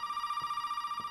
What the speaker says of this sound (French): Un téléphone qui sonne.